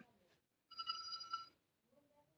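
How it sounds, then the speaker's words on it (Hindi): A phone rings once in a short electronic trill, fairly close, with faint voices murmuring before and after it. "1 मिनट मेरा फोन आ गया।"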